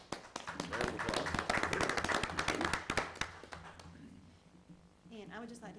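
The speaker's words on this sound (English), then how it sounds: "So, give a round of applause." Dense clapping from an audience at a county fiscal court meeting follows a World Diabetes Day proclamation. It is fairly loud for about four seconds, mixed with voices, then fades as talking resumes.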